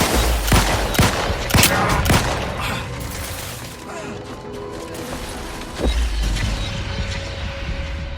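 Gunfire in the video game The Outer Worlds 2, loud sharp shots in a rapid burst early on, then rumbling blasts, mechanical clatter and another heavy impact amid game sounds.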